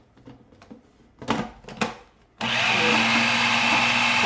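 A blender mixes softened cream cheese for pizza, starting after a few knocks and clatters with a sudden loud, steady close whir that runs to the end.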